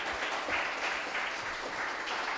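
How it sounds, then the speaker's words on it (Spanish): A church congregation claps together to welcome a visiting sister, an even, moderately loud patter of many hands that fills the whole short stretch without any voices. "¿Qué tal si le damos un aplauso al Señor por ella?"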